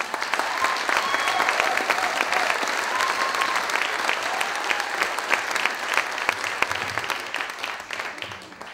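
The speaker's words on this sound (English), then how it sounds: "thanks for ending that applause so quick I can get going." A comedy club audience at the Red Barn welcomes comedian Derek Edwards with loud sustained clapping and a few whoops, tapering slightly toward the end.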